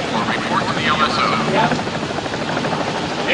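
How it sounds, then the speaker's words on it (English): Helicopters on an aircraft carrier flight deck, a loud continuous rotor and engine roar filling the whole stretch, with no clear break or change in level. "All helos at starboard delta so we clear them for landing."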